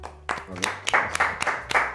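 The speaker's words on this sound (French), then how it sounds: "Je m'applaudis aussi." A few people clap in a small studio for former Bordeaux footballer Benoît Trémoulinas, giving a short, sparse run of close, sharp claps with a voice briefly underneath.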